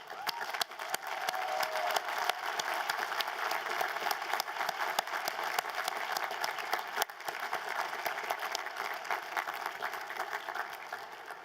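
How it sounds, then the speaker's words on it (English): A large audience at a 2019 Bentley graduate commencement ceremony applauds graduates' families and friends, with steady, dense clapping and a few cheers that carry on throughout at an even, loud level. "Turn and face your families and friends and join me in giving them a round of applause."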